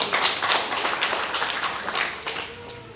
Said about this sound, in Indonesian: Tepuk tangan dulu untuk Tuhan.